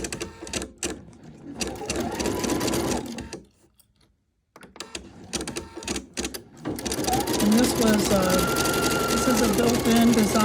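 Embroidery machine, a Creative Icon 2, stitching an applique design: rapid, rhythmic mechanical needle chatter that pauses briefly and then resumes louder, with a voice speaking over it.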